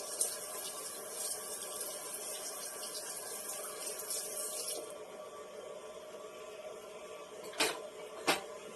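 A stand mixer whirs steadily while beating cheesecake batter, a continuous bright mechanical hum that cuts off about halfway, followed by quieter room tone and two short clanks near the end.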